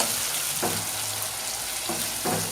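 Dal with turmeric powder being stirred in a pot, a steady simmering sizzle broken by three short scraping strokes of the spoon, moderately close and with no talking.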